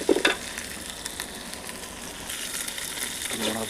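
Ginger and garlic sizzle and fry in a pan alongside potatoes, a steady close crackle with stirring and a brief sharp burst at the start, no talking.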